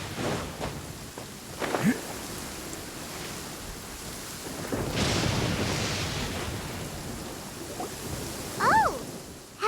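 A thunderstorm in the video game Genshin Impact brings a steady wash of rain and wind with a swelling rumble of thunder in the middle and a few sharp cracks near the end.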